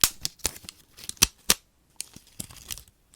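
A plastic outer seal is peeled off a cinnamon spice jar up close, a series of sharp crackling tears and crinkles in uneven bursts with short quiet gaps, no talking.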